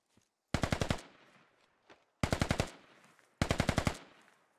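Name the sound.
gunfire in a video game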